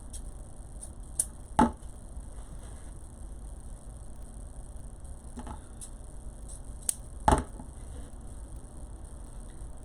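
Scissors snip angled cuts into folded ribbon tails for a bow, two short sharp cuts spaced several seconds apart over quiet room tone, with a few fainter ticks between.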